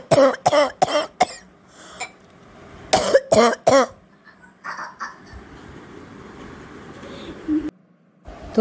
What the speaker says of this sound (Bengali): আজকে ভীষণ কাশছিস, কি সমস্যা?